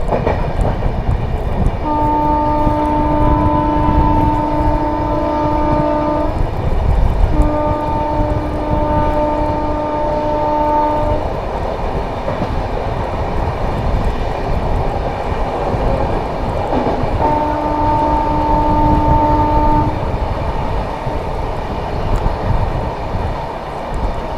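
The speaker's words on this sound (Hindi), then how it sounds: "किसी भी वक्त अपने से क्रॉस होगी स्वतंत्रता सेनानी सुपरफास्ट एक्सप्रेस" The Swatantrata Senani Superfast Express, a New Delhi–Jaynagar train, roars past close by with loud continuous rumble, sounding its horn in two long blasts, a brief break, then a third blast.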